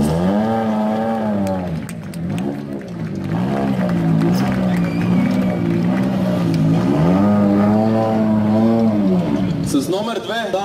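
A rally car's engine at the start line of Rally Sliven 2016 in Bulgaria, loud and close, revving in rising and falling waves before pulling away, with a voice faintly mixed in.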